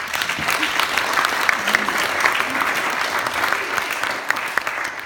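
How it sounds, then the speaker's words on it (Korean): Congregation applauding at a joint Korea–US peace prayer meeting, a steady, moderately loud wash of clapping that carries evenly from start to finish. "감사의 박수를 먼저 보내겠습니다"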